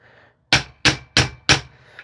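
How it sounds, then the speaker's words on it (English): A rubber mallet taps a firearm set on safe, four distinct, evenly spaced close knocks with a short ringing decay, no voices. "we're going to use our rubber mallet. And with the firearm on safe, we're going to go ahead and tap in it a few places"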